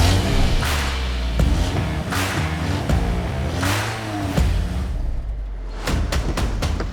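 A 10-metre limousine's engine rumbles close by on the Azores, Portugal, a loud, steady low drone with shifting revs and a few sharp knocks, alone without talk.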